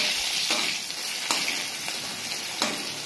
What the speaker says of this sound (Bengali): এই দেখো লাউ ভাজছি, লাউ ভাজবো